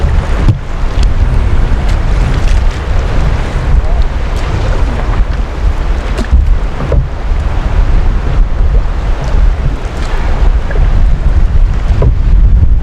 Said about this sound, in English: Although we got all this crosswind and whitecaps coming at us